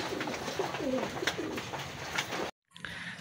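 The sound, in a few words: racing pigeons cooing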